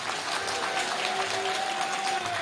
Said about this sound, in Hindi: आप तैयार हैं इस बात के लिए? यदि तैयार हैं तो जरा ताली बजा करके हाँ कहिए।